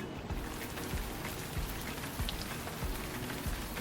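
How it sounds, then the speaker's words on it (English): Steady rain patters on a surface, dense and continuous, with occasional heavier drops tapping nearby. "It's raining."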